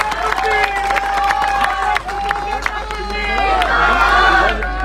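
Crowd clapping and cheering rise at a Punjab political rally in Sahnewal, swelling toward the end beneath a loud amplified speaker's voice that dominates the scene.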